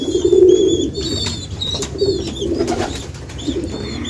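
Pigeon chicks, restless in intense heat, coo in soft, low, repeated murmurs close by, with a few faint higher chirps above.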